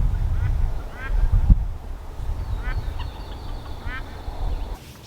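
Ducks on a farm garden on a rainy day, several short raspy quacks and honking calls spaced through the clip over a low background rumble.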